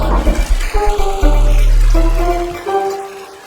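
A toilet flushes loudly up close in a domestic setting, then water keeps running and gurgling before gradually tapering off.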